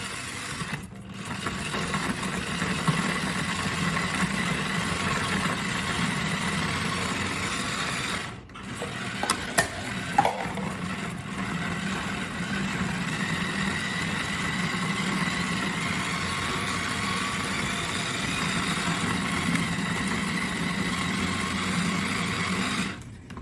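A food processor shreds chunks of broccoli stalk fed through its hopper, giving a steady motor whir that runs almost continuously, with one brief dip partway through and a few light knocks.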